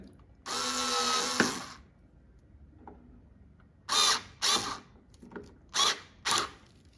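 A Black and Decker cordless screwdriver runs in one sustained whir of just over a second, followed after a pause by several shorter bursts of the motor, recorded close with quiet between runs.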